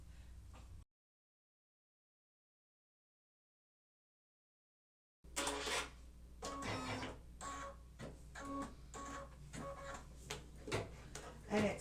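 An embroidery machine stitching a freestanding Christmas tree tealight cover in Madeira metallic thread gives a steady run of rapid, fairly loud clicks and taps after a long silent gap near the start.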